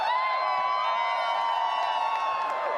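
An arena crowd at the Dota 2 International grand finals cheers and shouts in a sustained, dense roar, loud and unbroken, with high-pitched whoops layered over the mass of voices.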